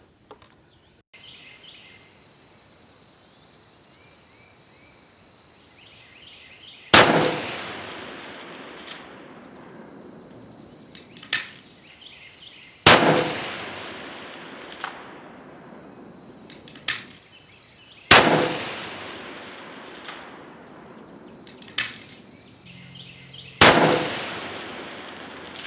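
An 1885 Winchester rifle fires a five-shot group at a 500-yard target: five sharp, loud reports spaced several seconds apart, each trailing off in a short echo over a quiet outdoor background.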